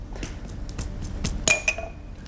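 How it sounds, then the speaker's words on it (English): Glass clinks and a sharp crack ring out as salad cream is spooned in for sauce tartare, a few bright taps and chinks of kitchenware close to the microphone over a low room hum. "You've broken the glass."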